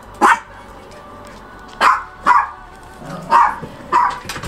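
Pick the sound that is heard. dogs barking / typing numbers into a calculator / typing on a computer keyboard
dogs barking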